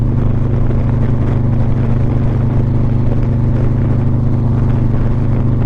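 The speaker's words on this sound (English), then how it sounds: "when I'm on the motorcycle, the sound of the motor, the sound of the wind is just relaxing" A motorcycle engine drones steadily at cruising speed, its loud low hum mixed with broadband wind rush, close and unbroken for the whole stretch, with no talk.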